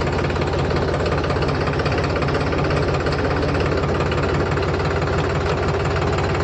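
New Holland 3230 45 HP tractor with a straight axle running steadily close by while being shifted into reverse, a loud continuous low diesel chug with a knocking rhythm and no gear clash.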